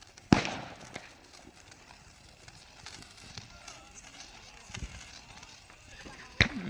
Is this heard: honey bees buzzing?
no